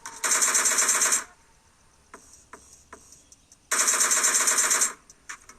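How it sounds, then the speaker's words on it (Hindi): Two loud bursts of rapid automatic gunfire in a video game shootout, each about a second long and separated by a quiet gap with a few isolated clicks and single shots. "सामने कोई टैप टैप पे फायर करके फाइट कर रहा था"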